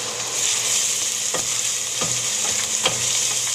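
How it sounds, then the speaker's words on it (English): Onions frying in oil in a pan, a dense, even sizzle close by with a few soft stirring taps spaced across it. "Just want to add a little bit of oil and toss in your onions."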